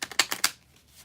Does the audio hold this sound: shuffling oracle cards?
yes